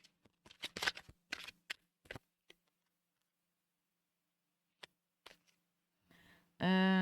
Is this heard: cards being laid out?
yes